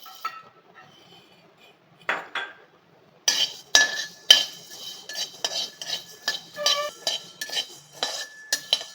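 Roasted coriander seeds scraped and scooped out of a heavy kadhai with a metal spoon, giving a run of bright clinks and scrapes that are sparse at first, then dense and steady, close and fairly loud with no talk.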